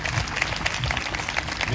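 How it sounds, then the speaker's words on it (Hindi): A congregation at a Bible study convention in Gangapur claps together in thanks to God, a dense, continuous patter of many hands, near and fairly loud, with a faint murmur of voices. "एक बार ताली बजाकर प्रभु को धन्यवाद दीजिए।"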